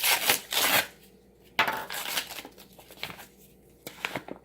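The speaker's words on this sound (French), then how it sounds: "Nous allons commencer par râper notre savon." A bar of soap is grated by hand for an acne face mask, making close, dry rasping strokes in a few separated bursts, some long and some short, with quiet pauses between them.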